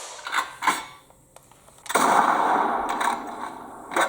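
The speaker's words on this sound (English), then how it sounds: "So this is the Tommy font where he's teaching Ellie how to shoot" Gunshots ring out in The Last of Us video game during a shooting lesson, a couple of sharp reports followed by a louder, sustained burst of noise and further cracks, with no talk.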